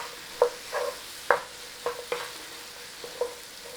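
Mushrooms sautéing in a pan, a faint steady sizzle broken by several soft scraping stirs of a utensil at irregular intervals, close and quiet with no talk.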